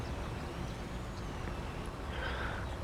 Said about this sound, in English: I don't like the sound on this truck, to be honest. It does sound like a lorry.